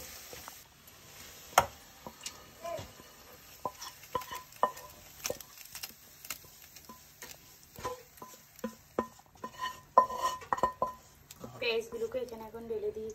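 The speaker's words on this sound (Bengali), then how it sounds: "এখন এর মধ্যে খাসির মাংস দিয়ে দিব।" Goat meat goes into a pot of onions browned in mustard oil and is mixed: scattered clinks and scrapes of a spoon against the pot with a soft sizzle, while someone talks throughout.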